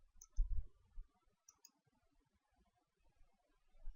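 A computer mouse gives two quick double clicks, one near the start and one midway, faint and crisp in a quiet room with low muffled bumps in between.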